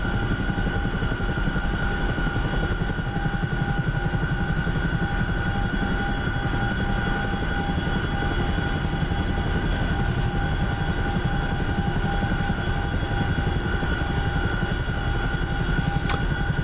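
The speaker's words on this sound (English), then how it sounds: "Oh, that's not a Chinook, that's a Blackhawk." A Black Hawk helicopter passing overhead near a landing pad at night, a loud continuous rotor and turbine drone that holds steady throughout with a dense rapid chopping texture.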